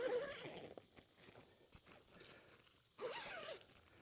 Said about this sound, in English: So you zip that and zip the other one.